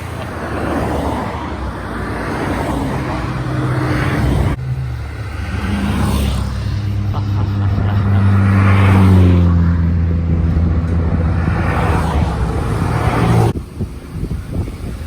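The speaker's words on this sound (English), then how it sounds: "There are so many old cars going by." Old cars driving past one after another on a countryside road in Japan, engines rising and falling as each passes nearby, loud and continuous with overlapping motor hums and a brief drop near the end.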